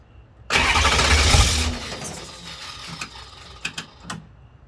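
M1152 military truck engine cranking without catching, a loud burst of starter grinding lasting about a second that fades into sputtering, followed by several sharp mechanical clicks and knocks close by.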